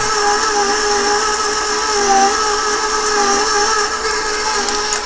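An electric mixer runs steadily at a lowered speed while eggs go in for Christmas cookie dough, a continuous whirring motor hum that stays level and close throughout with no talking.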